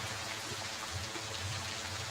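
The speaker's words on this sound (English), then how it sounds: "I don't know why it's raining in here all of a sudden." Steady soft rain patter indoors, a continuous low wash of droplets hitting a surface at moderate distance with no talk over it.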